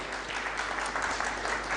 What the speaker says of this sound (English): give them a round of applause as they come over